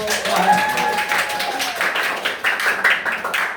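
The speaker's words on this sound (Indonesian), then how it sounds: "Tepuk tangan dulu untuk." Students in a classroom clap together in a scattered, moderately loud round of applause lasting a few seconds, with some voices mixed in.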